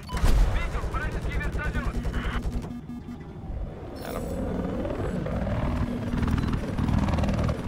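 In the video game Battlefield 4, a helicopter's rotor chops loudly and steadily while bursts of gunfire crack over it, then the action shifts to other battle noise with voices talking.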